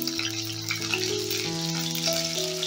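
Onion petals hit a hot pan and fry with a steady, close crackling sizzle that holds evenly throughout, while a tonal background sound sits faintly underneath.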